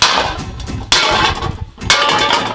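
A hammer strikes a metal WW1/WW2 Brodie helmet in loud, hard impacts with clanging ring-outs, bursts at roughly one-second intervals, close up.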